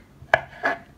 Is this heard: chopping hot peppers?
yes